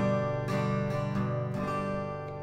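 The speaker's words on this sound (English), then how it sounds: "Now, for this light pick, which is a very thin pick, it sounds like this." An acoustic guitar is strummed with a very thin, light pick, giving four bright strokes that ring together as chords, close and clear with no voices.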